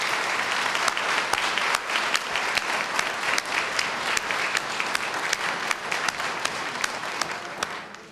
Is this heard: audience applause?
yes